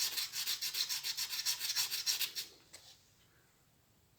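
A metal file rasps a burr off the handwheel of a Victoria Lady 6800 F sewing machine in about a dozen quick, even back-and-forth strokes, close and crisp, before the filing stops and near-silence follows.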